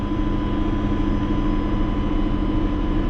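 A JCB Fastrac 4220 tractor engine holds a steady, loud low drone on hand throttle, with a constant hum and no change in pitch throughout.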